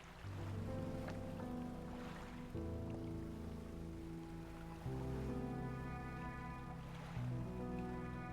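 A small fishing boat's engine putters steadily in the game Dredge, a low droning hum that shifts pitch in steps, over soft lapping water and wind.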